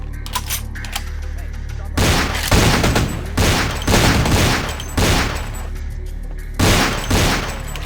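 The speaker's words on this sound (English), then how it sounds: "Of course, that machine gun." Machine gun fire in the video game Vampire the Masquerade, heard as several loud bursts of rapid automatic shots separated by short pauses, close and punchy, with no talking.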